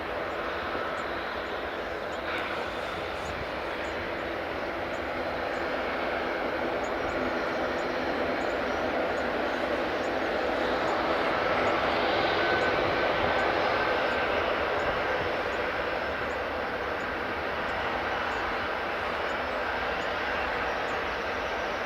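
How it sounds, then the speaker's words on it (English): A Qatar Airways Airbus A350 jet passes at Edinburgh Airport in the early morning, its broad engine roar steady and sustained for the whole stretch, swelling slightly toward the middle before holding level at moderate distance. "Qatar Airways next. Here comes the A350."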